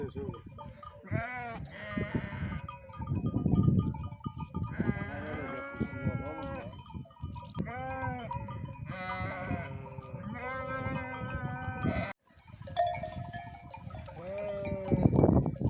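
Several sheep bleat repeatedly, some near and loud, others farther off, with overlapping calls and a steady farmyard background throughout.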